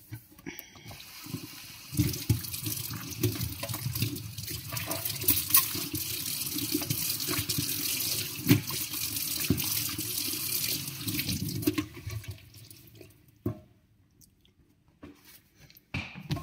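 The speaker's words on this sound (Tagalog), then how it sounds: "So, linisan ko muna yung maliit na sink." Tap water runs into a small kitchen sink during cleaning, a steady close splashing stream with scrubbing clatter that stops near the end, leaving quiet with a few faint knocks.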